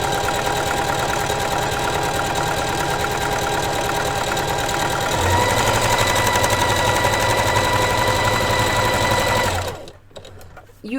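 Rapid, steady chatter of a sewing machine stitching a zigzag seam on a Barbie doll dress, running continuously at close range before stopping abruptly near the end.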